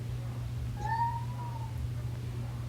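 A pet cat gives one drawn-out, rising-then-falling meow, close and clear over a steady low mains hum in a quiet room during a relaxed morning coffee chat.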